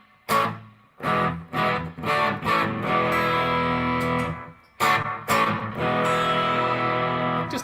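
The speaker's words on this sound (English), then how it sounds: "There's a bit of reverb on there." Distorted electric guitar with reverb, slapback delay and modulation, played in loud strummed chords and bursts with brief pauses between phrases, a ringing echo trailing each hit.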